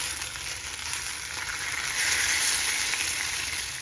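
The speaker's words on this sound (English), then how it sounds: "let the bacon cook a wee bit longer. I like it nice and crispy." Bacon frying in a pan as it crisps, a steady close sizzle and crackle that swells slightly partway through, with no talking.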